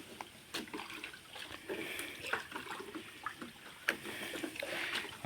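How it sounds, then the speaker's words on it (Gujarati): Water pours and splashes as a container is filled from a source on a farm, a steady trickling wash broken by a few sharper splashes, fairly close and moderately quiet. "આ પાણી ભરી લીધું છે આપણે આમાંથી વાડીમાં"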